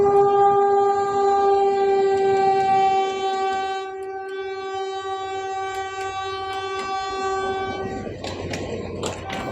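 A train passes near a rail line in Bicutan, with a long sustained horn blast followed by rumbling wheels and rhythmic clatter, loud and close with no talking.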